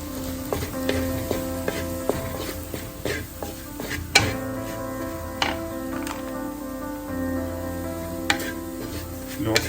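Spices are stirred into a Kuttanad-style shark fish curry with kodampuli and chilli in a pan, a steady sizzle under repeated sharp clinks and scrapes of a utensil against the metal, close and moderately loud.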